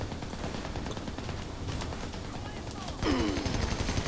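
Light machine gun fire in Army of Two: The Devil's Cartel, a dense, continuous rattle of rapid shots that grows louder for the final second, with other game sounds mixed in.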